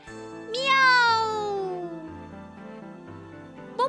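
A long, high, falling meow like a kitten's, over music-like tones and a soft voice, with a second short cry starting at the end.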